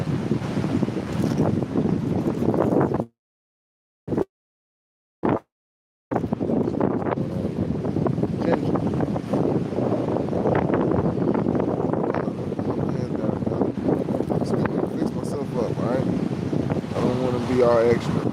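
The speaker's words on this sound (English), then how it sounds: "the wind is extra" Strong wind buffets the microphone outdoors with a loud, continuous rumbling roar, broken by two brief dropouts into silence, while a voice talks faintly under the gusts.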